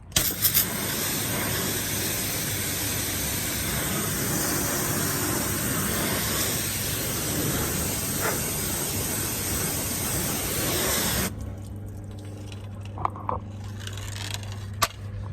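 A super hot pressure washer blasts degreaser onto a Land Rover 90 Defender, a loud continuous hissing roar that runs for about eleven seconds before cutting off, leaving a low machine hum with a few faint knocks.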